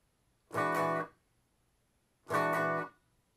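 Funk guitar rhythm played without continuous strumming: two short, separate chord stabs with silence between them, clear and close up.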